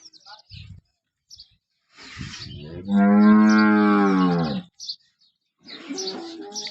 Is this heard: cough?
no